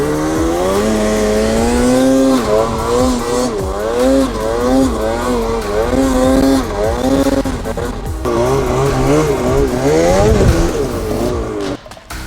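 A snowmobile engine revs hard while sidehilling on a slope, the throttle surging and easing repeatedly in wavering, whining pulls, loud and close, with a final brief drop near the end.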